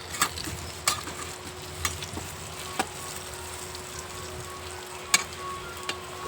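Jackfruit kofta balls sizzle steadily in hot oil in a pan, a continuous close frying hiss broken by a few sharp pops and spoon clicks as the balls are turned.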